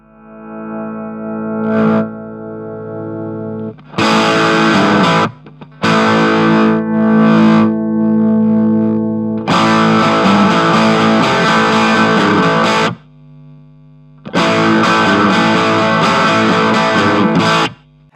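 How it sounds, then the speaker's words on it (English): Electric guitar chords with overdrive ring out in several loud, sustained bursts separated by brief pauses, the distorted tone rich and crunchy. "we've got our overdrive tones there to work between"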